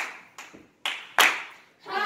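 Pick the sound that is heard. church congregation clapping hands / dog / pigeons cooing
church congregation clapping hands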